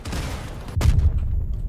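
A cannon shot in the vehicle combat game Crossout bursts out sharply in the middle, a single loud boom over continuous rumbling game noise.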